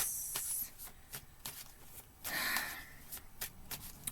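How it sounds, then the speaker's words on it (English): Tarot cards being shuffled and pulled from the deck, heard as soft papery riffles and flicks with a brief louder swish in the middle, close and fairly quiet, with no speech. "let's pull some more cards"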